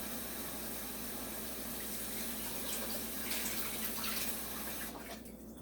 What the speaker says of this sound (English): So we're gonna rinse it off real quick, give it a good rinse.